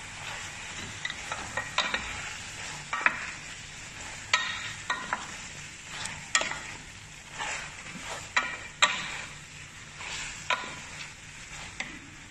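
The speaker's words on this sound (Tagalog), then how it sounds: "Mix lang natin siyang mabuti guys." Plastic spoon stirring food with assorted mixed spices in a pan, soft scraping and clinks over a light background sizzle, irregular strokes spread throughout with no talking.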